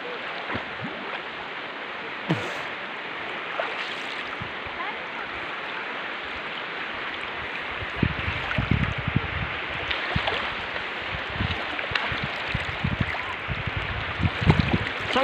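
River water flowing steadily outdoors, a continuous broad rushing wash with occasional splashes and knocks growing a bit louder toward the end, with no talk over it.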